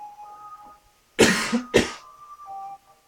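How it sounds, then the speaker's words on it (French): Two harsh coughs in quick succession, close up, over a faint tonal background hum. "Alors attention, je vais tousser."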